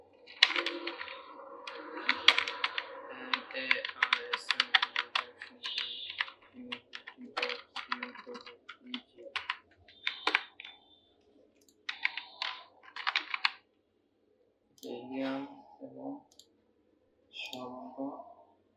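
Rapid clattering keystrokes on a computer keyboard, close and in uneven bursts with short pauses, while someone talks in the later part.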